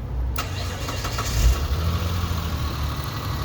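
A car engine turns over and settles into a steady idle, a continuous low hum close by.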